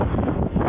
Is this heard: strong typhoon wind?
yes